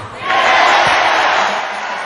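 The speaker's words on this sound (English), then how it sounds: "And a big cheer from the fans at Blacksburg" Basketball fans at Blacksburg cheering in the arena, a loud surge of crowd roar and whoops that swells quickly and holds before easing slightly.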